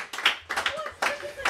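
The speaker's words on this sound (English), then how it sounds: "So round of applause. Clap that up." A few people in a podcast studio clap in short, uneven bursts, close and crisp, with brief gaps between them and voices speaking in between.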